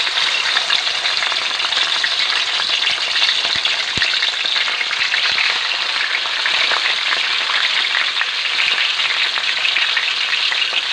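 Chicken for mang inasal frying in a kawali makes a loud, continuous crackling sizzle with fine spitting pops, close and unbroken throughout.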